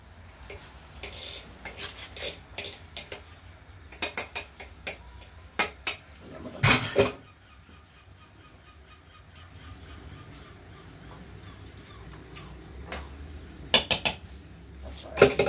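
Dishwashing in a kitchen: scattered clinks and rattles of pots, plates and cutlery come in irregular bursts, with a denser clatter partway through and quieter stretches between.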